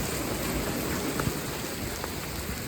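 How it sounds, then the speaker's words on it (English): Steady rain falling outdoors near a chicken coop, a dense, even wash of patter with occasional individual drops standing out, fairly loud and continuous with nobody speaking. "It's raining."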